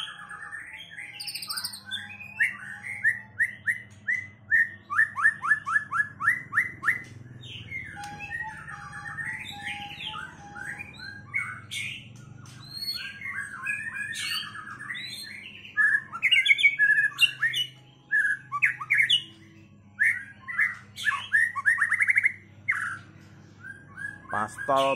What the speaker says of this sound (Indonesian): Ini burungnya.